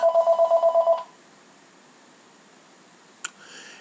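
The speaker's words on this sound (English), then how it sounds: "Yes, that is a phone call going on in the back." A telephone rings in rapid repeated pulses for about a second in a church setting, then stops, leaving quiet room tone with a small click near the end.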